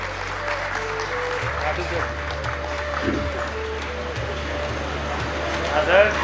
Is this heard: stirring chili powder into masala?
no